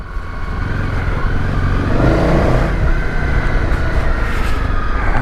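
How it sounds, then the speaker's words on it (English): A Honda CRF250 Rally dirt bike rolls downhill on an off-road trail under engine braking. Its engine gives a steady loud drone that swells briefly midway and then holds, close to the listener and with no talk. "let the engine do the braking"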